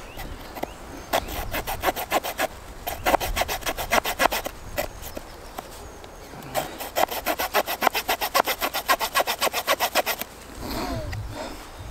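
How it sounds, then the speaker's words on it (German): A small pocketknife saw cuts through wood for carving a spoon, with steady back-and-forth rasping strokes in two long bursts separated by a brief pause, close and alone without talk. "Das macht das Sägen mit so einer kleinen Taschenmessersäge auch nicht unbedingt einfacher."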